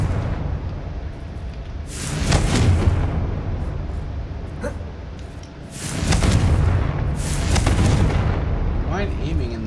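Spell explosions from Bombarda and Confringo in the Hogwarts Legacy video game, two heavy booming blasts several seconds apart with rumbling tails over continuous game background noise.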